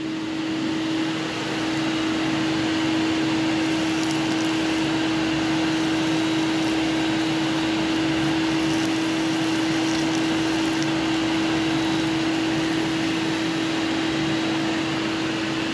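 DeWalt cyclone dust collector running with a loud, steady whooshing roar and a constant tonal hum, holding unchanged throughout with no speech.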